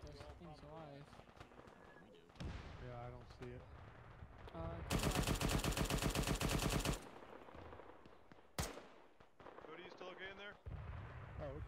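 Rapid automatic gunfire bursts from an Arma combat game, a dense sustained volley of a couple of seconds plus scattered single shots and a sharp crack, mixed with radio chatter and voices talking throughout.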